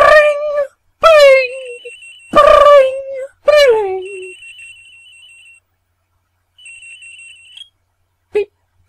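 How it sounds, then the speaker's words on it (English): A telephone rings in the Phoenix Wright courtroom adventure game, a series of loud sharp electronic trills in bursts with gaps between them, followed by a brief final blip. "Answer that phone! Answer the goddamn phone!"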